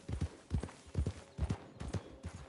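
Horse hooves clip-clop in a steady walking rhythm while riding in Red Dead Redemption 2, fairly soft and close, with no talk over them.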